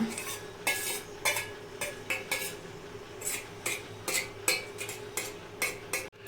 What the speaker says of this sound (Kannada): ಇನ್ನೊಂದು ಸ್ವಲ್ಪ ಹಿಂಗೆ ಸ್ಪೂನಲ್ಲೇ ಮ್ಯಾಶ್ ಮಾಡ್ಕೊಳ್ಳೋಣ.